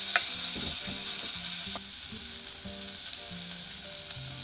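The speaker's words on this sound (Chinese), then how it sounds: "开中火，倒入一点油， 放入洋葱，" Chopped onions sizzling steadily in a little oil over medium heat, loud and close, with a spatula stirring and scraping the pan in a regular rhythm and no voices.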